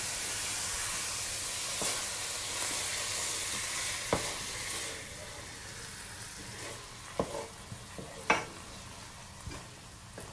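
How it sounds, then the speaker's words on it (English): Spoon stirring sofrito through ground meat picadillo in a pan, with a steady frying sizzle and hiss underneath and a few sharp clinks and scrapes scattered irregularly, close and fairly loud, no talking. "Okay, and then you mix it all up."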